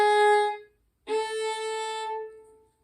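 Measure 36 of Joy to the World played on violin at a lesson's pace: two clear, sustained bowed notes close by, separated by a short silence, with no talking.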